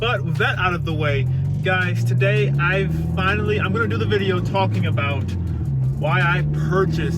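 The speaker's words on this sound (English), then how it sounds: "If you guys can hear the exhaust that's on it right now" A Ford Focus RS aftermarket exhaust drones low and steady beneath someone talking continuously throughout, the engine tone rising slightly as he drives.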